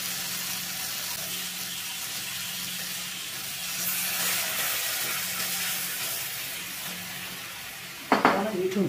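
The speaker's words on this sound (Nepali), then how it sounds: "अब एकैछिन यसलाई भुट्ने" Taro and potato curry fries in a pan with a steady, hissing sizzle that swells midway, then a sudden clattering, splashy burst of stirring near the end.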